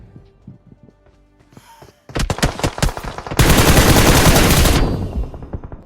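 M4 assault rifle fire in the mobile shooter BGMI, starting as sparse shots, then dense rapid bursts that swell into a loud, continuous volley before cutting off, with faint game sounds at the start.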